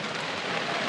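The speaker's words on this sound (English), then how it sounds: "It's raining." Steady rain falls over an outdoor Australian rules football grand final on a dark, wintry day under the lights, a continuous broadband hiss with no talk over it.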